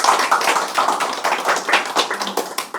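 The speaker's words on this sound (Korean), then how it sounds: "박수를 한번" A small lecture audience claps together after a Korean history talk, close and fairly loud, in uneven bursts of hand claps that run for a few seconds with no speech.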